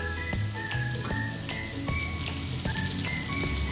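Ginger, garlic and green chili sizzle steadily in hot oil in a pan, a continuous close frying hiss with crackles and pops throughout, no voices.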